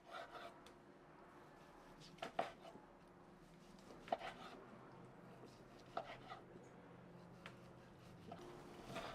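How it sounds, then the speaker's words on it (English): A knife chops sliced grilled ribeye steak into smaller pieces on a board, with several soft, evenly spaced chopping taps that are faint and close. "Let's chop it up into smaller pieces."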